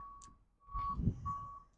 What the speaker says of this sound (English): I'm sure you're hearing the beep of that truck backing up.